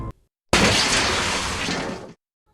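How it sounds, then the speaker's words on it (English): A car crash sound effect: after brief silence comes a sudden loud burst of shattering glass and crunching impact, holding for about a second and a half before cutting off abruptly. "Metal against metal, the sound of shattering glass."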